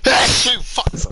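One loud, close sneeze bursts out at the start, followed by a few quick spoken words.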